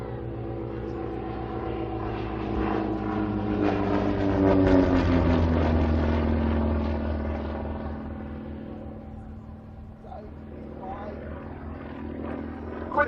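A Percival Provost RAF trainer aircraft drones past at an Old Warden air race day, its piston engine a loud, steady roar that swells and slowly fades as it passes.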